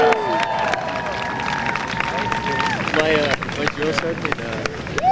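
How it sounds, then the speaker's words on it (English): A crowd at a military open house featuring the 82nd Airborne applauds and cheers outdoors, a dense rolling wash of clapping and shouts with a voice talking over it and a tonal whistle-like sound drifting through. "let's give them another great round of applause"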